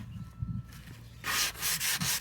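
Wood being sanded by hand with sandpaper, a few close scratchy rubbing strokes following a quieter low rustle.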